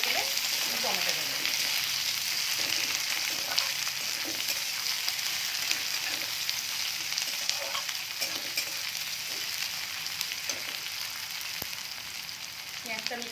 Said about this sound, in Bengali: পেঁয়াজটা আমি একটু ব্রাউন করে ভেজে নেব